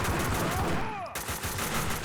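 Rapid bursts of gunfire from the video game Max Payne 2 come close and loud, overlapping with game sounds in a dense exchange of shots lasting about two seconds.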